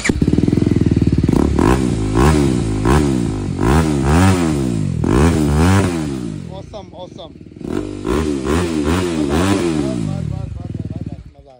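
A BMW G310 RR motorcycle with an R9 aftermarket exhaust revs loudly at close range, throwing a string of quick rising blips with short idle gaps between them, then a pause and more revving.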